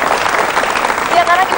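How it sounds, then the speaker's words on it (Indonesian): Audience applause at a university community forum on students' village service programmes, a steady dense wash of clapping throughout with voices mixed in. "Kita beri tepuk tangan."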